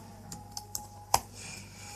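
Typing C code on a computer keyboard, a handful of irregularly spaced, fairly quiet clicks with one sharper key press, over a faint steady background hum and no talking.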